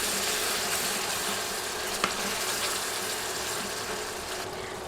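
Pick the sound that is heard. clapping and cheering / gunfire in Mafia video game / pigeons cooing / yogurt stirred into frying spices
yogurt stirred into frying spices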